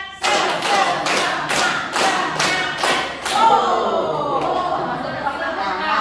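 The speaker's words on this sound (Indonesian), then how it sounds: "Tepuk 1, tepuk 2, tepuk 3, semangat" A group claps in unison in a counted chant at a church lector gathering, about seven sharp synchronized claps in steady rhythm, then scattered noise and chatter.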